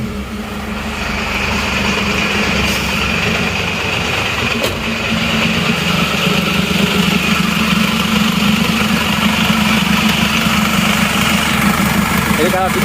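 Heard up close, an Isuzu Panther diesel engine, suspected of burning oil, settles into a loud, steady rumbling idle with a coarse, clattering vibration throughout.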